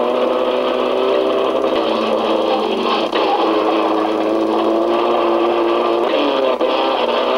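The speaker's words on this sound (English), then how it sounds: "This high-powered sports car leaves its mark on the track" A loud, steady high-powered sports car engine roar with a high whine on a race track, holding a constant pitch with slight shifts, close by.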